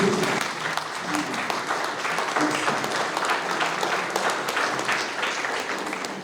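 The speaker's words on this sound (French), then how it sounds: "Applaudissez." An audience at the official launch ceremony of a private business sector group applauds steadily, a dense continuous clapping with faint voices mixed underneath.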